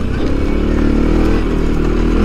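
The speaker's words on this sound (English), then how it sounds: "I'm just letting the engine brake and do the work for me." Loud, steady engine drone of a CFMOTO CFORCE 400 ATV engine braking through quick corners in two-wheel drive, with rattling and clatter over the rough ride, continuous and close.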